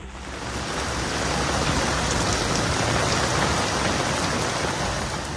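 Heavy rain pours steadily in Pakistan, a dense, loud, unbroken hiss of drops with no voices.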